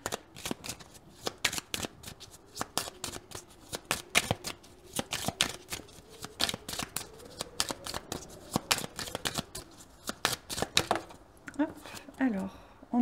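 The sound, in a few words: tarot cards being shuffled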